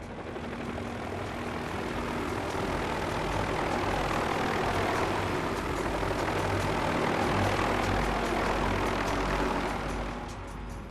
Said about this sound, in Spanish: De pronto oí un helicóptero